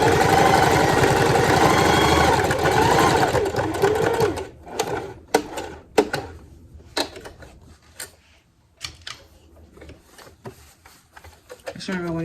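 A sewing machine stitches a half-inch seam around a fabric wallet, a loud continuous buzzing run that stops, followed by scattered clicks and handling taps, with a voice talking over part of it.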